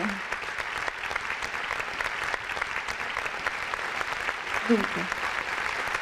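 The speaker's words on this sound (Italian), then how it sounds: "Credo che un applauso lo meriti." Sustained audience applause at a Christmas concert aboard the aircraft carrier Cavour, dense and even throughout, with a voice briefly audible beneath the clapping.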